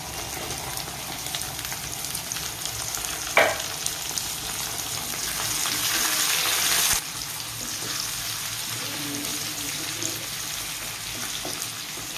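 Chopped capsicum and onion fry in a pan with a steady, close hiss of oil that swells briefly midway, then settles back into an even sizzle, with a light clink and stirring; no one speaks.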